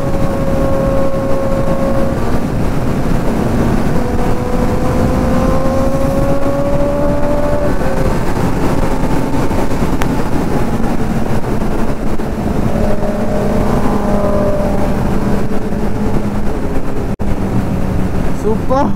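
A loud Kawasaki ZX-10R sport bike drones steadily on a highway ride, its engine pitch rising and falling with heavy wind rush, while a rider talks over it.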